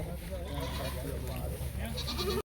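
A goat bleats at the Bargari goat market in Punjab. The calls are close and repeated, heard under the voices of people talking nearby.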